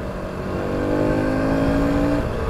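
A 2021 Aprilia SX125 supermoto motorcycle on a test ride, its engine droning steadily with the pitch climbing as it accelerates, then easing off near the end over wind and road noise.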